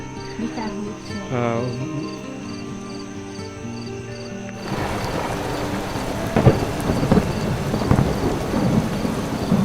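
Thunderstorm with rain in the hills, starting as a quieter ambience before a steady wash of rain sets in around the middle, with louder rumbling bursts of thunder later on.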